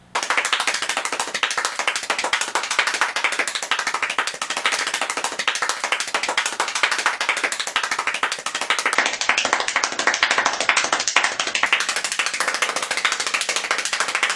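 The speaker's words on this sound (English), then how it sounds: "He couldn't stop clapping." One man clapping nonstop at high speed, a rapid, relentless run of sharp, close hand claps with no pause and no talking throughout.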